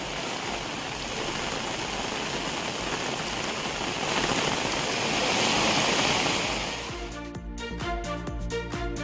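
Heavy nighttime rain in hilly Kanyakumari district pours as a steady, loud broadband hiss that swells slightly midway, then gives way to a sharper pattering texture near the end.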